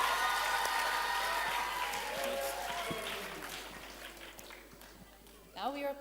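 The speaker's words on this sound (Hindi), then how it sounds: "ताली बजाओ जोरदार" An audience at an anniversary celebration applauds in a sustained, dense wash of clapping that slowly fades, with voices and a brief louder outburst near the end.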